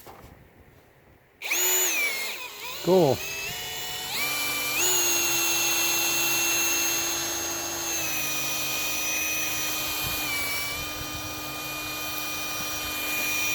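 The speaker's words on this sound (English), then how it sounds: "let's see what happens when I turn this drill on" An Everbilt PUP63 HD drill pump driven by a power drill whines steadily and loudly near at hand, starting abruptly after a quiet moment, with a brief dip in pitch early on before holding a constant high tone; one short spoken remark.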